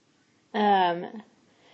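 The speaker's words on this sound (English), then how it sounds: "Someone is deciding to practice whistling outside my door today." A single short whistled tone from a person outside a door, clear and fairly close, lasting under a second against near silence.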